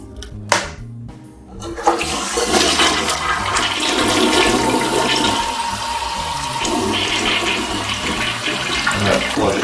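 A Kohler toilet in a Doubletree Minneapolis hotel bathroom flushing: a sharp click and whoosh, then a loud, sustained rush of swirling water that stays strong for several seconds, close by.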